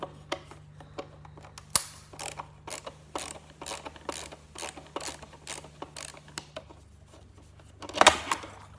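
Screwdriver turning a screw during a Big Mouth Billy Bass repair, a close, quiet series of evenly spaced ratcheting clicks with a steady low hum behind, ending in a louder clatter.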